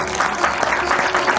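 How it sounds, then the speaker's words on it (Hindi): A crowd at a Shrimad Bhagwat Katha religious discourse claps together in loud, steady applause that carries on without a break. "आप सबके लिए एक बार ताली तो बजाना"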